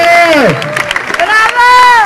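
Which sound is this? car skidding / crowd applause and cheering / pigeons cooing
crowd applause and cheering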